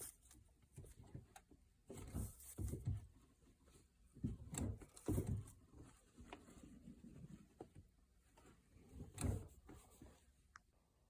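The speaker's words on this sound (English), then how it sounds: "So what I'm doing here is I'm pumping the brake pedal a few times here and there, just like once all the way down." Brake pedal pumped in a 2010 Ford Focus, a series of soft, low thumps and creaking mechanical strokes at an irregular pace, faint and close in a quiet cabin.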